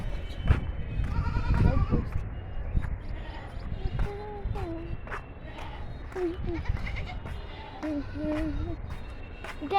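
Tethered goats and their young kids bleat several times, wavering calls rising out of a low, rumbling outdoor background, close by and moderately loud.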